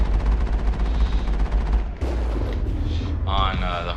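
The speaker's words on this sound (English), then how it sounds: "With only like 2 cannon shots." Cannon fire in the Mass Effect video game: a rapid stream of loud, booming gunfire bursts with a deep low rumble, a sharp break near the middle, then more blasts and a rising electronic whine, with a voice talking over it.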